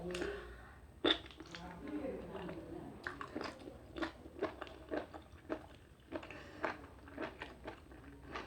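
Someone bites and chews large cooked mushrooms close to the mic, with a series of soft crunchy, wet chewing pops in an irregular rhythm, and a brief voice near the start.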